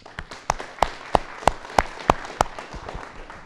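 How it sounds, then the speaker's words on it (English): An audience at an agricultural debate program applauds, heard as a string of distinct, fairly regular hand claps about a third of a second apart, moderately near and sparse rather than a dense crowd roar. "I think we should give them a real round of applause."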